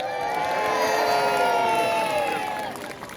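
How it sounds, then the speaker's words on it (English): Crowd cheering at a mini boat battle on a lake in Scarborough, a burst of many voices shouting and whooping, including children, loud and sustained before fading toward the end. "Let's have a cheer for Jervis Bay."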